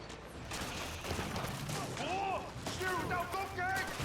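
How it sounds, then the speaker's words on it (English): Cannons fire in a naval battle in Age of Empires, a barrage of overlapping booms and crackling blasts with metallic game effects, bursts rising and falling over a few seconds. "So many cannons."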